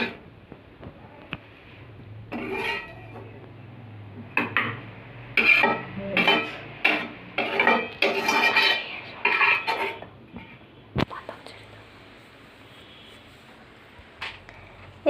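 Fried red amaranth greens are moved from the pan into a serving dish: a quiet run of metal clinks and scrapes, clustered in the middle, then a single late knock.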